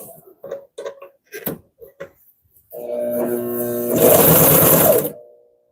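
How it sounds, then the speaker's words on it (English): A Consew CP206RL industrial sewing machine stitches a handbag seam. A few soft knocks and handling sounds come first, then the motor runs in a steady, close, loud whir for about two and a half seconds before stopping. "I'm just going to sew it and then trim the bottom off."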